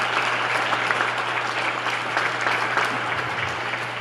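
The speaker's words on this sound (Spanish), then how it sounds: "También les pido un aplauso para él y para la esposa del maestro Sebastián," Steady audience applause fills a museum hall at a cultural talk, dense, even clapping holding at a constant level from start to finish with no voices over it.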